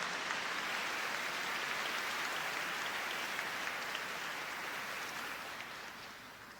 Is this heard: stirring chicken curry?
no